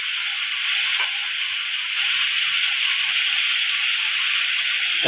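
Steady, loud sizzling of vegetables sautéing in a hot pan for sambar, with a continuous frying hiss throughout and a faint stirring clink early on.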